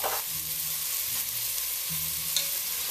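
Red onion tossed into hot oil and stirred, a loud close sizzle with scraping and soft knocks of the utensil in the pan, no voices.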